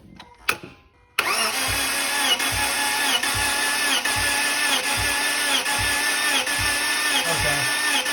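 A Subaru Legacy GT engine with a suspected blown motor, cranked over by the starter with a compression tester fitted in cylinder two, giving a steady loud whirring crank with a regular pulsing beat after a brief click and pause.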